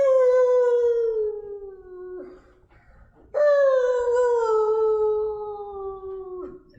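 Voices imitating wolves give two long, loud howls, each sliding slowly downward in pitch and separated by a short quiet gap, with no other talk.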